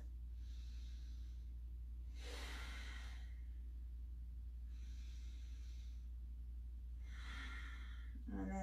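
Slow, deep yoga breaths, each a long airy inhale or exhale, come in four evenly spaced swells over a low steady room hum, close and fairly soft, with no talking.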